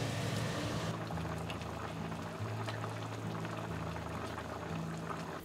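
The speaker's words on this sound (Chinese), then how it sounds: "电火锅烧起，直接出锅" An electric hotpot of spicy red broth with starch-coated bullfrog, homemade pickled vegetables and water boils steadily, bubbling and hissing continuously up close under a low electrical hum, with no voices.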